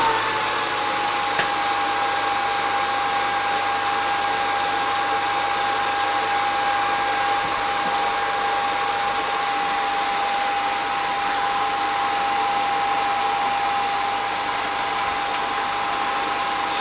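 Revere Model 85 8mm film projector running in gear, a loud, steady mechanical whir and hum with a constant whine, unbroken and without talk.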